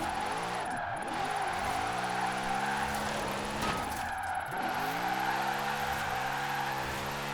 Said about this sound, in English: this is such a good car for point drifting